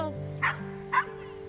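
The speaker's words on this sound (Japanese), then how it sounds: "あっちの方でひかるちゃんも他のワンちゃんと遊んでます" Two short dog barks ring out at a spacious dog run, a beat apart, moderately near, over a steady background hum and faint chatter.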